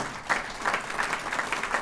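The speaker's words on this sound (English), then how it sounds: "And you want to clap?" Short burst of applause from a crowd, steady clapping at moderate volume without any talking.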